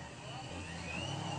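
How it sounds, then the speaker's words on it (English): A ProCharger supercharger on a trail rig's engine whines steadily in the background, a continuous high tone riding over a dense, even engine drone. "That Pro Charger whining in the background."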